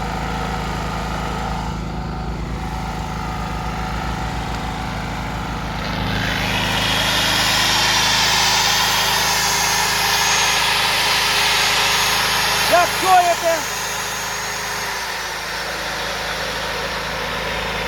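A Genergy Estrela 3300 petrol generator drones steadily; partway through its pitch deepens as a 2.1 kW angle grinder whines under load, then the grinder stops.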